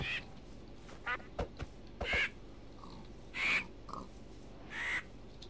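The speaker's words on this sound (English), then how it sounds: "So many birds!" Several short bird calls in the Minecraft video game, fitting cawing or quacking, come in separate bursts across a few seconds, moderately loud over a quiet steady background, with no talk.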